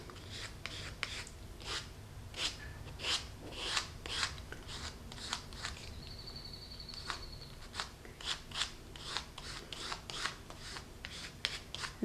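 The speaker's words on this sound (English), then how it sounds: "we're just going to paint, scrape it across in the margins." A paint chip drags paint across the margins of paper in short, repeated rasping strokes, a close, dry scratching rhythm that carries steadily over a faint background hiss.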